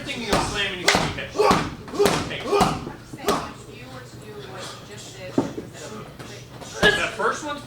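Several sharp, heavy thuds from judo takedowns slamming bodies onto the mat, landing in a quick irregular series near the mic, with voices talking in the background.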